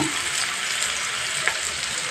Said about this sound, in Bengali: পেঁয়াজটাকে ভালোভাবে একটু ভাজা ভাজা করে নেব